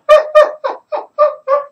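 Loud, close series of six honking bird calls in quick succession, coming from a flock of Canada geese flying overhead in V formation.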